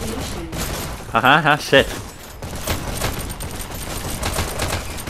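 Pistol fire in the VR game Hyper Dash, rapid cracking shots amid busy game noise, with a person laughing and talking in the clip.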